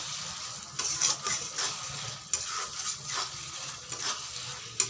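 Spice paste for a spicy chicken curry fries and is stirred in a pan, a soft sizzle broken by repeated scraping strokes of the spoon at close range, with no voices.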